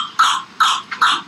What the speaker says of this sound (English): The body attempts to rid itself of this buildup by causing a violent coughing fit.